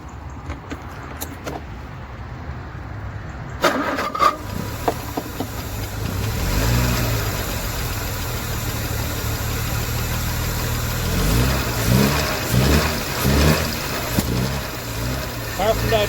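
Engine of a 1969 Jaguar XJ6 Daimler Sovereign Series 1, abandoned for 18 years, cranks and fires before settling into a rough, uneven idle with a few clanks, and someone talks over it.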